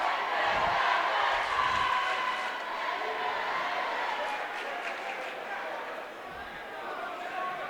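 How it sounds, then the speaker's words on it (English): Crowd at a packed high school basketball championship game between the Ellet Orangemen and Buchtel Griffins, a broad continuous murmur of chatter and cheering in a gym with a few sneaker squeaks. "Say a pretty darn good crowd here tonight for this championship game"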